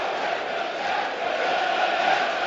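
A football stadium crowd at a 2019 EFL Championship match between Sheffield United and Nottingham Forest, giving sustained distant applause and a broad murmur of cheering that holds steady throughout.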